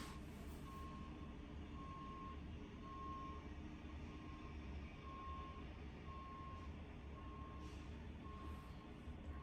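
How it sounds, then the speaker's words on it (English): A bus backing down a residential street sounds a steady reversing beeper, evenly spaced tones about once a second, moderately distant over a constant low rumble of engine and traffic. "There's a bus backing down my street."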